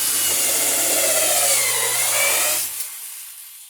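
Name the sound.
drilling into wooden boat frame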